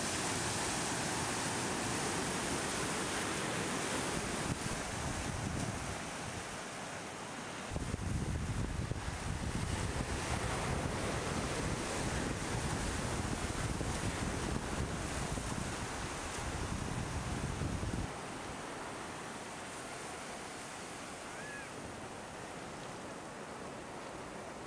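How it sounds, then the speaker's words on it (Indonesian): Ocean waves roll and break at a river mouth, a continuous roaring wash with surging swells, mixed with heavy wind rumble against the microphone and no voices. "Sejenak kita dengar deburan ombak."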